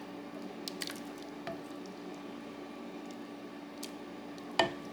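Soft, simmering cooked beans are pressed and squished, making a few wet, faint squelches and drips, with one sharper squish near the end, close up and without talking.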